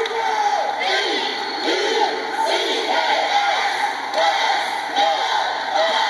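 Crowd cheering and whooping at a college cheerleading national championship, a loud sustained roar of many voices filling the arena with repeated swells of shouts.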